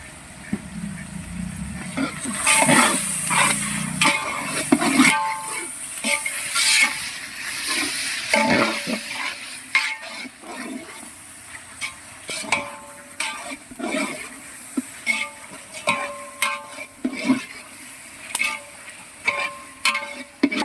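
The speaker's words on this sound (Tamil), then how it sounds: "தக்காளி அப்போ தான் சீக்கிரமாக நல்லா வதங்கிடும்" Tomatoes sauté in a pan for biryani with a loud, steady sizzle, broken by repeated scraping and clattering strokes of a stirring spoon close by.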